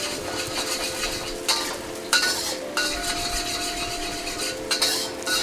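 Garlic, ginger and green onion whites sizzle steadily in a hot stir-fry pan, a continuous crackling hiss broken by a few sharper bursts as the aromatics are stirred, close and fairly loud with no talking.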